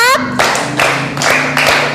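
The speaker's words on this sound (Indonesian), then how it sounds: "Coba kita tepuk 1, 2, 3, 4, 5 dulu yuk." A class of fourth-grade schoolchildren clapping together in a counted sequence, a few sharp group claps that are loud and close, with voices chanting along between the beats.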